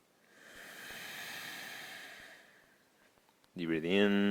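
A slow, deep exhale during yoga breathing, a soft breathy hiss that swells and fades over a couple of seconds, followed by a voice speaking.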